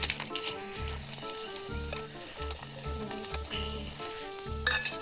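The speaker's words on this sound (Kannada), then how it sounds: "ಗೈಸ್, ಈಗ ಟೊಮಾಟೊ ಹಾಕ್ತಿದ್ದೀನಿ." Tomato hits a hot pan of oil and sizzles and crackles steadily for several seconds, close and fairly loud, with a light clink near the end and a faint melodic tune running underneath.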